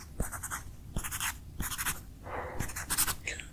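Pen writing notes on paper in several quick scratchy bursts separated by short pauses, close and quiet, with no voices.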